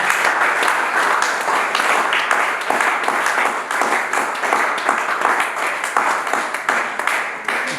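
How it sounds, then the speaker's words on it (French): A church congregation applauds together during a worship service, a steady dense wash of clapping lasting throughout at close range, with no pauses or talk rising above it. "Acclamons pour la parole du Seigneur"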